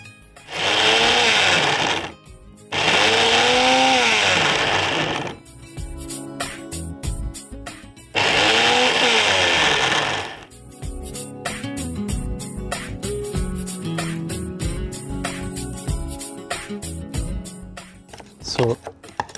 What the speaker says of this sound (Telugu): నెక్స్ట్ ఇది మనం మిక్సీ పట్టేద్దాం.